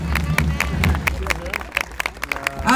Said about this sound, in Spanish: Denle unos aplausos a mis alegres que están allá